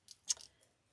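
Scissors snip through fluffy wreath mesh in a few quick cuts, with one sharp close snip standing out among softer rustles; no one speaks.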